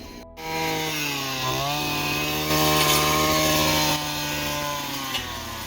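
Brush cutter cutting grass in a field, a loud, steady high engine whine with a brief dip and rise in pitch, close up and alone, with no talk.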